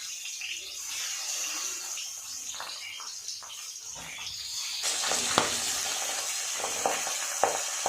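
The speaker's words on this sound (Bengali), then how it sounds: "বাকি মাছগুলো একইভাবে ভেজে নেবে" Pabda fish frying in hot oil in a pan, a continuous close sizzle and crackle that grows louder midway, with scattered sharp pops and spatters.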